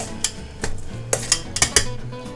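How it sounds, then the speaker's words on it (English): A spoon stirs salt into chopped cucumber in a bowl, giving a few sharp clinks and scrapes in an irregular rhythm, close and fairly quiet, with no talking. "I'm gonna stir that all together"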